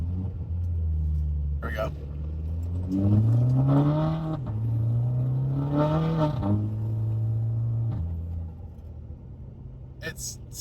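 A VW Tiguan with a converted DQ250 DSG gearbox accelerates hard, engine droning and rising in pitch through quick successive upshifts with brief dips between gears, heard from inside the car, with a short spoken phrase near the end.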